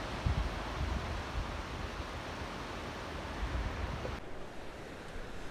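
Steady rushing surf washes against the shore at Brigantine, New Jersey, a broad hiss of water with soft low surges and no voices.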